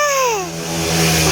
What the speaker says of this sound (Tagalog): May nagkakarirang motor